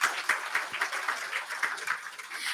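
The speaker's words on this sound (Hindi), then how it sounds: "तो हम सभी तालियां बजा सकते हैं।" Audience clapping at a launching ceremony, a steady crowd of hands beating throughout at moderate loudness, with no voices over it.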